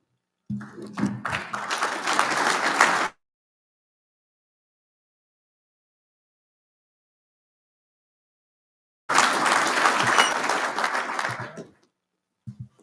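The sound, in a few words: audience applause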